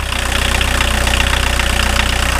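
A 1981 VW Rabbit TDI diesel pickup truck engine runs just after starting, a loud, steady idle with a rapid rhythmic clatter and deep low rumble throughout.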